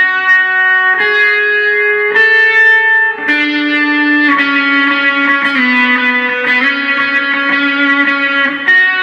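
An electric guitar with distortion and reverb effects plays a steady picking pattern, notes ringing and overlapping in a sustained, loud, evenly paced line with no voices.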